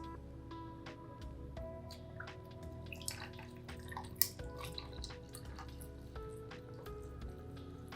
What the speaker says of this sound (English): I'm gonna pour the hot coffee into the glass of ice